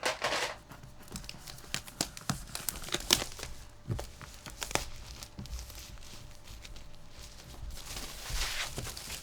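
Packaging for a SuperBox P7 Pro projector is opened up close: a steady run of crinkling, tearing and rustling, with quick scrapes and handling bumps throughout, fairly quiet.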